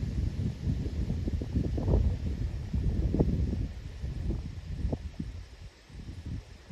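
Wind buffets the microphone beside the A.M. Foster covered bridge in Vermont, a close, uneven low rumble with gusts rising and falling, loudest early on and easing toward the end.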